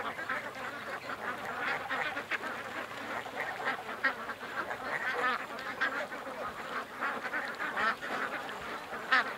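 Startled ducks on a lake quack repeatedly in overlapping, uneven bursts, some calls sounding honk-like, moderately near but fairly quiet over a soft outdoor background.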